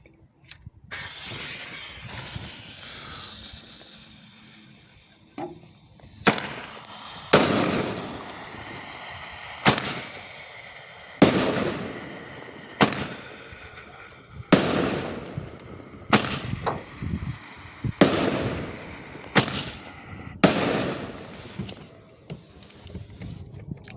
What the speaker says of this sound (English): Clown Fireworks, RM1005, 5-shot, Stars of Thunder.